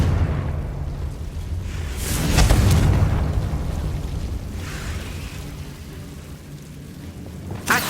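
A Confringo blasting spell explodes in Hogwarts Legacy on PS5, a deep rumbling boom that swells and fades over several seconds. A few softer bursts follow, and a sharp crack lands at the very end.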